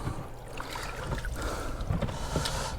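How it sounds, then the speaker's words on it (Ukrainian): A motor boat passes on the Dnieper river during a fishing trip, a steady, distant engine drone and wash blended with wind noise. "Човен проїхав."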